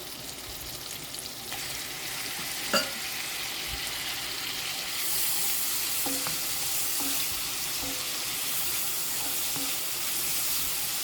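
Salted onions and mushrooms sizzle steadily in a pan for beef stroganoff, a close continuous hiss and crackle with a few faint utensil taps, growing a bit brighter midway.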